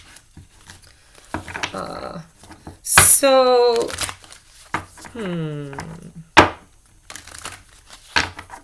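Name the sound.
shuffling tarot cards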